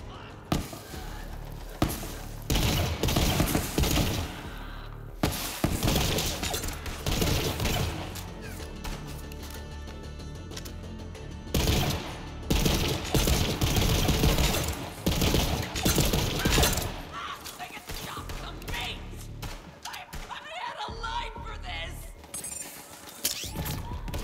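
Dense, loud gunfire and impacts in the video game Borderlands 4, with repeated bursts and crashing hits filling the scene while people talk over it.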